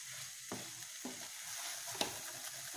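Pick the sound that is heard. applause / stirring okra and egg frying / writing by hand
stirring okra and egg frying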